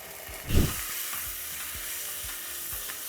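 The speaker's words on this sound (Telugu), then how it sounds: "ఇప్పుడు ఇందులో మనం అల్లం వెల్లుల్లి ముద్ద వేసుకోవాలి కొంచెం పచ్చివాసన పోయేంత వరకు వేగనివ్వాలి" Ginger garlic paste and turmeric frying in a pan for Hyderabadi khichdi, with a soft steady sizzle, one louder stir or scrape near the start and faint repeated light stirring knocks, no talking.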